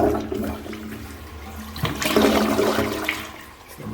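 A toilet in a plumbing job flushes close by, a loud rushing gush of water that swells midway and then settles into a gurgling drain, with no talk.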